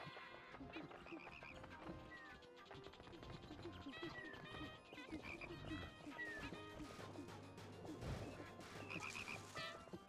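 Frog croaks in the game Pikmin 2 sound repeatedly amid busy game music and effects, with a person talking over them.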